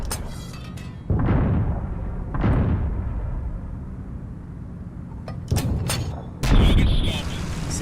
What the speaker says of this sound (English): See there, we get a cook-off.